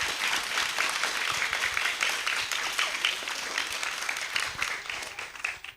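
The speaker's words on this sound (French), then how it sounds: "Est-ce qu'on peut s'applaudir 4 fois," Children applauding together, a dense, steady clapping that holds at an even level for several seconds before tapering off at the end.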